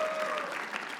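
An audience at a comedy show applauds, a dense steady wash of clapping from a crowd, close and continuous for about a second.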